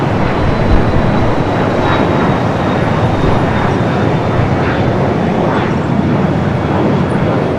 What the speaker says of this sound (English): We do have a Delta 737 900EI coming up from Salt Lake City, flight